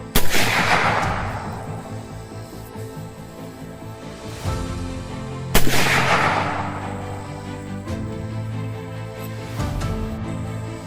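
Two loud rifle shots using 170 grain rounds, fired from a long-barreled rifle with a peep sight on a peanut farm during wild boar hunting, each with a long rolling echo and fainter thumps between.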